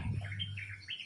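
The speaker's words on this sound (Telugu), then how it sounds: "పిచ్చుకలు అరుస్తున్నాయి." Sparrows chirp at dawn in a few quick, faint twittering notes over a low steady hum, with no talking.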